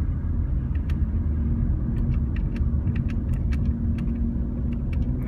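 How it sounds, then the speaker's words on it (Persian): A car engine grinds steadily as the car climbs a very steep street in Los Angeles, with a dense low rumble and faint clicks over it. "ماشین به سختی حرکت میکنه این شیب"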